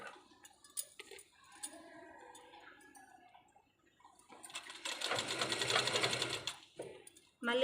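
A sewing machine stitches a line of fabric in a steady buzzing run that starts partway through and lasts about two seconds, close and fairly quiet, with soft handling sounds before it.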